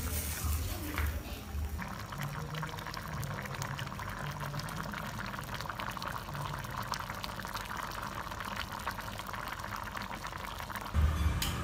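Water bubbling at a steady rolling boil in a pot for dried catfish and ginger stew, a continuous close hiss and simmer with a light thump near the end.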